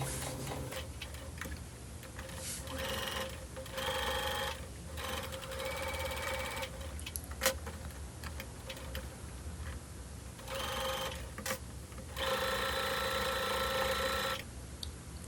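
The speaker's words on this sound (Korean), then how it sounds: "그리고 맨 윗면을 제외하고 노루발 간격으로 쭉 재봉해 줍니다." Domestic sewing machine running steady straight seams on quilted fabric panels for an iPad pouch, a close rapid mechanical whir in several bursts with short pauses between them.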